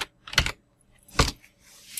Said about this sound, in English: Just typing text with Vim.